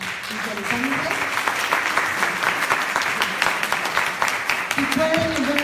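An audience applauds at the close of a science talk, steady dense clapping filling the whole stretch at moderate loudness, with faint voices underneath.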